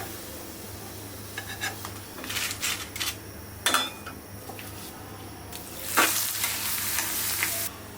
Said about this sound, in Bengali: সেই জন্য পাঁপড় ভাজতেছি।